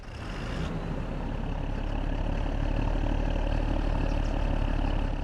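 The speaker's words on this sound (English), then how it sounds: "The engine sound comes from the front, exhaust sound from up there" A heavy Fendt tractor engine in Farming Simulator 25 idles with a steady, dense diesel rumble, starting up and holding a constant loud drone with no talking.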